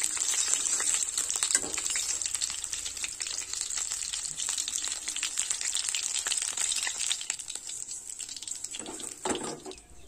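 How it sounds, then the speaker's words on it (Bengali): Fish frying in hot oil gives a constant loud, hissing sizzle close by, with occasional soft clinks and stirring sounds and no talk. "বাদ বাকি মাছ সব ভেজে নেব।"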